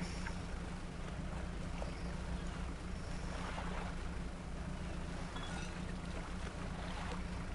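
Fishing boat running on two engines in the video game Dredge, a steady low motor drone with faint water and wind noise throughout, no talk.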